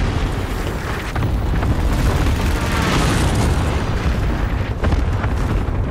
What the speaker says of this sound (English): I'm sending airstrike